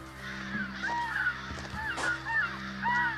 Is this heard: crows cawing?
yes